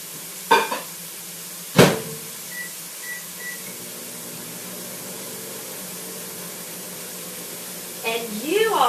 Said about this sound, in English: I've got mushroom sauteing because I particularly love mushrooms.